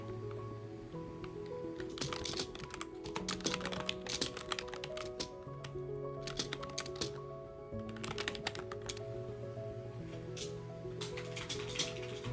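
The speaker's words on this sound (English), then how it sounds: "let's get typing" Steady, fast typing on a computer keyboard, close up, a continuous clatter of keys with a soft melodic tone playing quietly underneath.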